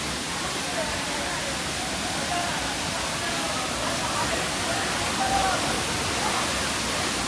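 Apsarakonda waterfall at Honnavar: a steady, dense roar of falling water fills the scene evenly throughout, with faint voices of people nearby mixed in under the rush.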